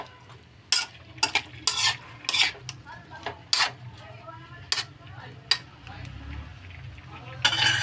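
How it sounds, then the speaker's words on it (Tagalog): Garlic, onion and tomato being sautéed in leftover frying oil, with a soft sizzle under repeated clanking of a utensil stirring against the pan at an irregular pace, close by. "Tapos yung pinagprituan ko, ginisahan ko ng bawang sibuyas, kamatis,"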